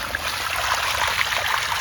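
Water rushing out through the backwash slide valve of a DE pool filter, a steady, moderately loud hissing gush with no breaks or talking.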